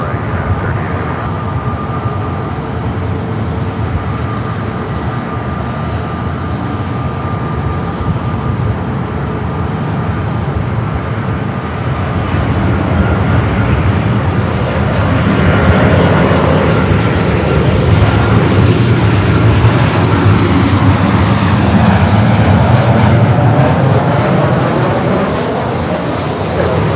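A Philippine Airlines Boeing 777 taking off at LAX, a loud sustained jet engine roar that builds and swells as it climbs away, with faint talk underneath.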